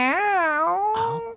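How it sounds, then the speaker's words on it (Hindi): A cat gives one long, loud, drawn-out meow that rises and then wavers close by, followed by a softer tail-off, with no speech over it. "साला बिल्ली ने भी परेशान करके रखा है"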